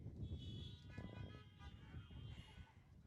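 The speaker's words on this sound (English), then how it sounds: "Please honk your horn to second the motion." Several car horns honk at once from vehicles parked at an outdoor drive-in style meeting, overlapping toots and sustained blasts heard from a distance, faint and muffled over a low rumble of idling engines.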